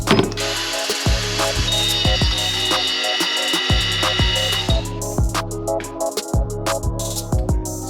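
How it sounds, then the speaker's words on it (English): A carbide burr on a power tool grinds a metal brake part while hot-rodding a Foxbody Mustang, giving a steady, close whine with rhythmic low thumps throughout and a brief pause mid-way, with no talking. "Ye old trusty carbide burr."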